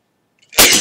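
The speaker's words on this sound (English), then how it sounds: "I have to sneeze, and I apologize if I sneeze." A single sharp sneeze bursts out after a faint intake of breath, loud and close.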